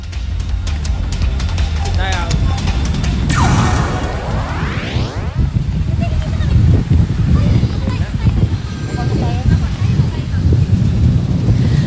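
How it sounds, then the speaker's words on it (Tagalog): Strong waves striking the seawall along the Manila Bay shore, loud rushing surf and crashing water mixed with heavy wind buffeting on the microphone, with a voice talking over it. "alon dito sa baybayin ng Manila Bay."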